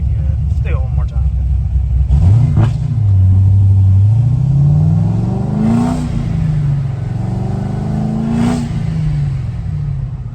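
Supercharged C6 Corvette engine revving while cruising around town at night, loud rumbling rises and falls in several throttle blips, with people talking over the engine.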